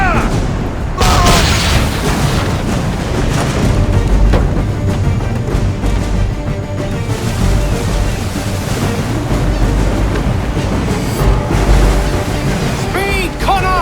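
Ship cannons firing during a naval battle in Assassin's Creed 3, deep booming blasts rolling over constant ocean surf and wind, loud and sustained with shouted commands mixed in.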